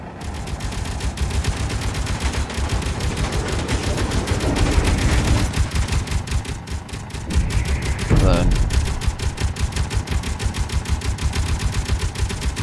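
Hostile ship's guns in Space Engineers fire a continuous rapid stream of loud, evenly spaced shots that run throughout, with a couple of heavier impacts or swells partway through.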